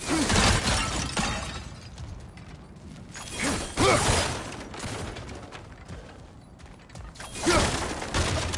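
Wooden objects and crates being smashed apart in the Norse action game God of War Ragnarök, with repeated bursts of crashing, splintering impacts separated by quieter stretches of creaks and rattling debris.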